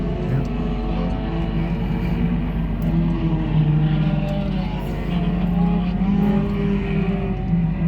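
Dirt track sport compact race cars roar past in a continuous, droning engine chorus, their pitch rising and falling as they race around the track.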